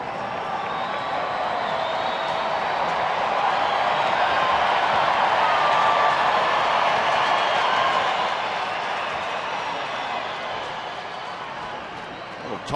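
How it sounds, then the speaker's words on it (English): Rangers fans fill the Alamodome at a baseball game with a steady, broad roar of cheering and crowd noise that holds loud throughout, then eases slightly near the end. "Crowd here pretty heavily salted with the Ranger fans. You hear them getting behind Alexi Ogando."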